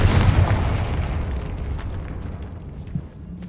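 A Confringo blasting spell explodes in Hogwarts Legacy with a loud, deep boom right at the start, then a rumbling tail that slowly fades, with a smaller thud near the end.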